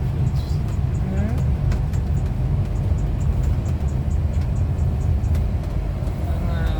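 Traffic on a road near Cadaqués rolls past in a continuous loud rumble of engines and tires, with faint whines and a muffled voice now and then underneath.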